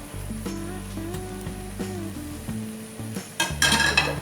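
Spicy mutton roast being stirred and mixed in a pan with lemon juice and coriander leaves: soft scraping and clinks of a spoon against the pan over a gentle sizzle, with faint background tones throughout.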